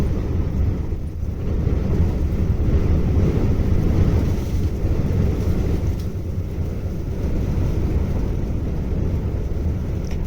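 A strong wind blows during rain over open water, a loud continuous roar that buffets the microphone throughout with no pauses.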